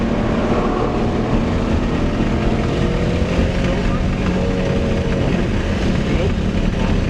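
A car lapping the Road Atlanta race track, engine roaring loud and continuous from inside the cockpit with heavy rumble, while an instructor's voice talks over it.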